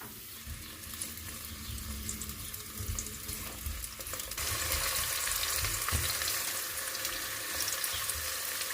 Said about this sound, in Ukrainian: Цибуля файно ся жарить маленько не прожариться.